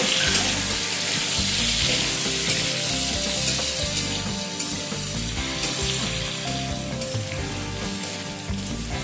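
Loud, continuous sizzling of eggplant and mixed vegetables frying in a pan, close up, with a steady crackle that eases slightly toward the end.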